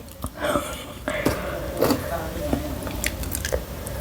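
Biting into a crispy shrimp spring roll at close range, with crunchy bites and chewing noises repeating over several seconds as a person whispers and talks softly nearby.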